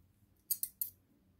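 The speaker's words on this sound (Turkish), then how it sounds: "ipimizi burada kesip temizliyoruz" Three quick, crisp scissor snips cutting crochet yarn, close and loud against a quiet background, with no voices.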